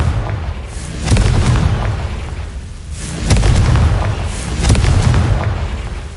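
Confringo fire-blast spell exploding in Hogwarts Legacy, several loud deep booms rolling out in waves, alone without talk.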